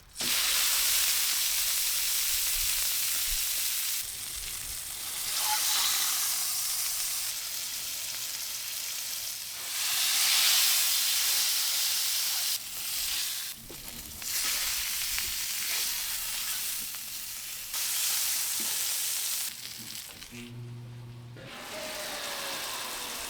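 Pork sears in bacon fat on a Ninja Woodfire grill with a loud, steady broadband sizzle and hiss that surges and fades as the meat is moved, punctuated by a few clicks and a brief tonal clatter near the end, with no talking.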